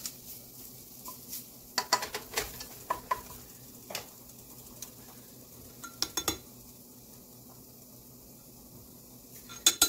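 Black pepper cooks in a roux for a vegetarian onion soup while a utensil stirs it, giving soft scraping and scattered clinks over a faint, steady sizzle, with no talking.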